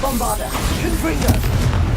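In Hogwarts Legacy, the Confringo spell bursts into a fiery blast: a single short, punchy boom rising out of a dense wash of combat sound, with a voice calling out nearby.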